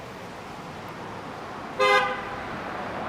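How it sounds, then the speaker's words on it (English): A single car horn honks loudly for about a quarter second in the downtown Toronto traffic near St George, standing out over a steady street hum. "Honk."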